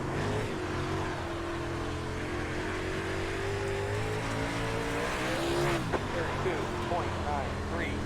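Super late model race car lapping I-55 Raceway in the iRacing sim, its engine a steady loud drone with shifting pitch throughout and a brief sharper swell near the end.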